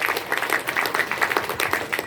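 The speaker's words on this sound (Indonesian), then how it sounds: "Tepuk tangan dulu." A crowd at a village community meeting in Namo Tualang claps for a short, lively burst of applause. The clapping is dense and close, with faint voices mixed in.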